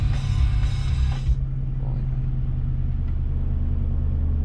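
A Ram TRX truck fitted with a GTHAUS exhaust rumbles at close range, with a short louder burst that settles into a steady low idle drone.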